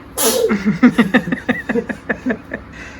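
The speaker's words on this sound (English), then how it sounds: "Thanks for catching that sneeze." A single sharp sneeze bursts out loudly in a test kitchen after smelling cayenne pepper, followed by a few seconds of talking nearby.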